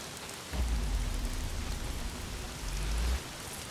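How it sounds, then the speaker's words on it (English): Heavy rain pouring in the Days Gone video game, a steady dense hiss with low rumbling swells underneath, and no voices. "Well, not if it's pissing down rain."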